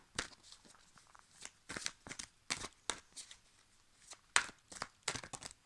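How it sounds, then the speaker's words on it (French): A tarot card being drawn and handled from a deck: a series of short, crisp papery snaps and rustles in quick irregular bursts, close and fairly quiet, with no talking. "Je vais juste prendre une carte pour conclure, pour le lien."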